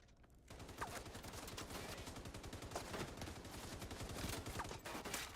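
A minigun in The Division 2 fires in a long unbroken stream of rapid, evenly spaced shots, loud and close, with only a short quiet lead-in before the burst.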